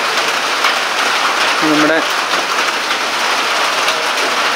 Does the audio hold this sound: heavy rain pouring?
yes